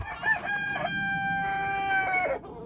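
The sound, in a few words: chickens clucking and rooster crowing in barn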